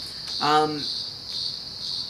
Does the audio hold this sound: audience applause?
no